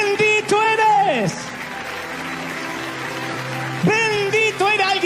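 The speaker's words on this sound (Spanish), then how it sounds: "Alguien tiene que aplaudir y celebrar más que eso." A church audience applauds during a sermon, a brief burst of clapping between stretches of a loud, excited voice.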